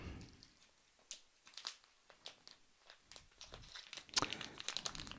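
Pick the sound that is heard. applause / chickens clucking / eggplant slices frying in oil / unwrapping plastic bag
unwrapping plastic bag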